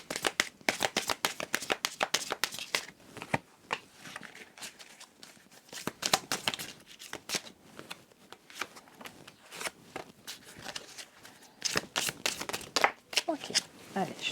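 Oversized cards being shuffled by hand, a series of quick crisp riffling bursts with brief pauses between them, close and fairly loud, with no talking.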